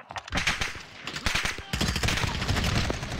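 Gunfire in the video game Modern Warfare during a capture-point match: loud bursts of automatic fire and rapid shots, close and continuous, with game voice callouts mixed in.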